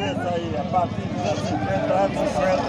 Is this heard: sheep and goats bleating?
yes